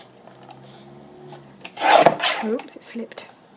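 A paper trimmer blade slides through paper for wedding journal pockets, a short, close rasping cut burst in the middle after some quiet handling noises.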